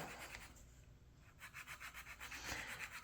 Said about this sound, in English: I broke out the file. And we're having to file this down.